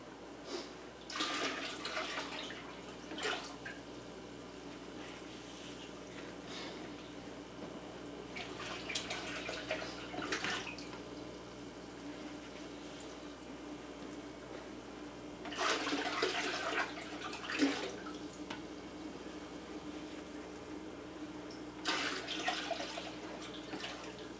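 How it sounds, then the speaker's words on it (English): Fresh water pours and gushes into an aquarium in several separate bursts, each lasting a second or two, with quieter trickling and a low background hum between them. "Now it's time to add the clean,"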